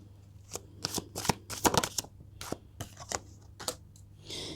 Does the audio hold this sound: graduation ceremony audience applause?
no